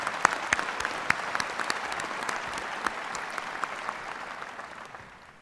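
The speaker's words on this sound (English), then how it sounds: "A round of applause." Steady applause from a crowd at a University of Michigan Ross School of Business graduation ceremony, many hands clapping together, fading out at the end.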